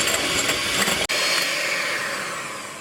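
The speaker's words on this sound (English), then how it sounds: "continue to add the sugar 1 spoonful at a time, making sure I really whisk it in well each time before I add another spoonful of sugar" Steady mechanical whirring of meringue being whisked while sugar goes in a spoonful at a time, with one short break before the motor carries on evenly and fades slightly toward the end.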